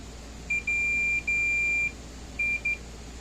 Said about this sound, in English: let's get the old continuity tester out and test the continuity between wire to wire from end to end